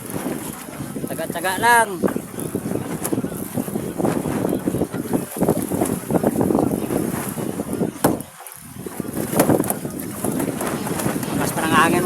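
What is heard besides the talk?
strong wind at sea on a boat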